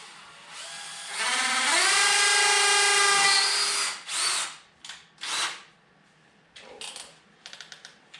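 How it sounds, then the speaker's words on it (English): A power drill drives stainless steel self-drilling screws into a wood stove chimney joint, whining up to a loud sustained spin for nearly three seconds, then several shorter bursts and a few clicks, close by with no talking. "I'm gonna screw first of all the joining from the chimney."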